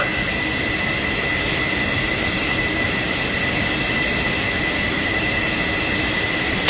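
A MiG-29 jet taxis in the LockOn flight simulator, giving off a constant, loud engine roar and whine that holds steady without change.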